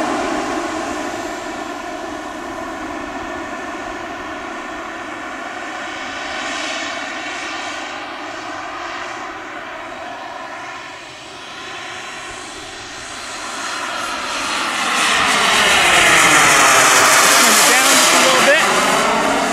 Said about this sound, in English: That's full throttle, by the way.